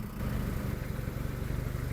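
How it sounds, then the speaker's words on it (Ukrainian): A Japanese mini tractor's 4-cylinder engine runs smoothly and steadily, a close, continuous low mechanical drone with even pulsing and no talk over it. "Гарна плавна робота 4-циліндрового двигуна."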